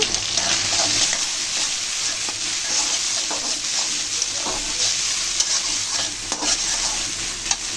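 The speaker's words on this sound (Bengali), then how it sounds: "চিংড়ি মাছ দিয়ে সবগুলো একসাথে দিয়ে এখন ভাজা ভাজা করে নেব" Cabbage, plenty of onion, green chili and shrimp stir-fry together in a pan, giving a loud, constant sizzle broken by repeated scraping stirs close by.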